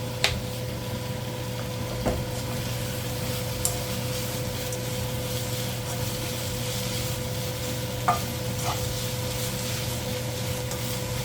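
Fish cakes get stirred in a hot pan while they fry with sugar over a raised flame, a constant sizzle with a steady hum beneath and a few sharp utensil clicks against the pan.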